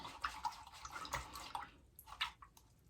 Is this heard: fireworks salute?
no